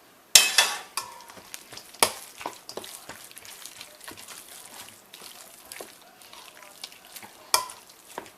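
Vegetables land in a hot pan with a sharp burst of sizzle, followed by crackling frying, scattered clicks and scrapes of stirring, and occasional louder pops, all fairly close and with no talking.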